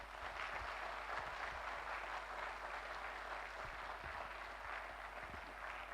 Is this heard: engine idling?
no